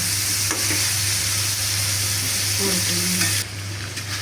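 Liver is sautéed in a pan for a spicy liver-and-potato bhuna, giving a loud, steady sizzle with a few scraping stirs. The frying drops slightly in volume near the end.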